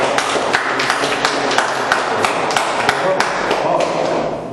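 A church congregation claps in a steady rhythm during a Portuguese-language worship service, the sharp, evenly spaced claps filling the room with voices mixed in.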